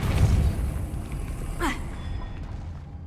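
A Depulso spell is cast in Hogwarts Legacy, giving a short whooshing, rising burst over a dense, rumbling game soundscape that fades toward the end.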